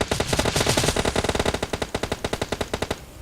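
Gunfire in the mobile game PUBG Mobile: a dense, sustained automatic burst of rapid, evenly spaced shots that slows slightly and then stops, loud and close, with no talk over it.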